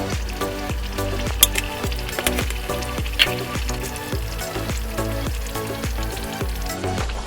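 Sweet tikkis frying in hot oil over a high flame, a loud bubbling sizzle with a rhythmic series of clacks and scrapes from stirring or turning in the pan throughout.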